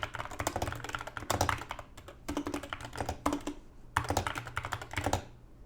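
Fast clicking keystrokes on a computer keyboard come in several close bursts of typing with brief pauses between them, crisp and near during a study session.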